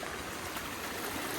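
A waterfall pours in a steady, even rush of falling water, close and continuous with no pauses.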